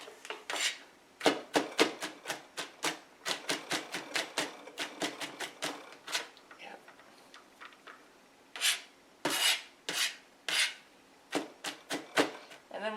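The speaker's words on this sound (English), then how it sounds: "So I'm mincing the garlic." Garlic minced with a knife on a board for a Mexican red snapper dish: close, quick rasping chops and scrapes in uneven bursts, with short pauses between runs.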